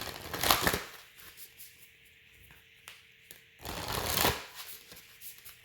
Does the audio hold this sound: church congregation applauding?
no